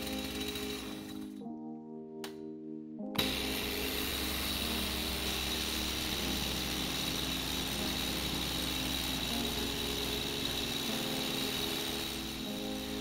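Stihl MS251 chainsaw running after a hard start, a steady droning engine with a rattling, buzzy edge and a brief lull near the start before settling into a continuous close, loud run.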